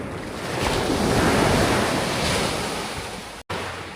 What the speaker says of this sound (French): On approche Cocoa Beach, une plage vraiment fréquentée des Québécois.